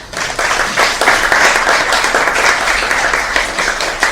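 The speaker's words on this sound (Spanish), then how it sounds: "Esta hoja de vida merece que lo recibamos con un caluroso aplauso." An audience at a spiritist talk gives a warm round of applause to welcome the speaker, a dense steady clapping that stays loud and even for a few seconds.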